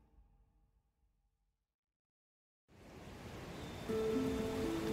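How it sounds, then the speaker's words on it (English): Ocean waves wash onto the beach of a small Pacific cove at sunset, a steady soft surf that comes in after a near-silent opening and grows a little louder toward the end. "In a small cove on the Pacific, waves slowly hit the beach as the sun sets."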